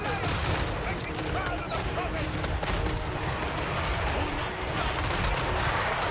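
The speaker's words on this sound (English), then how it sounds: "The Free Company militia on the left flank execute their roles with precision, firing disciplined volleys into the advancing skeleton warriors and grave guard." Massed musket volleys from a militia line in a fantasy battle video game against undead skeleton warriors, a dense continuous crackle of gunfire with ragged bursts and battle din, loud and sustained throughout.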